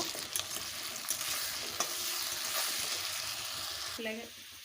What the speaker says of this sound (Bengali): দিয়ে আলুটাকে ভেজে নেব